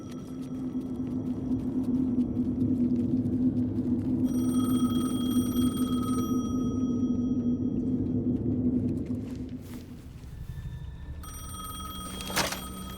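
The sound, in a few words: payphone ringing in Alan Wake 2 video game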